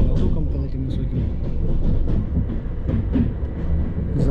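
An electric commuter train rolls along the rails at night near Lazarevskoye, a steady low rumble with faint rhythmic clatter heard from inside the carriage, continuous and fairly loud throughout.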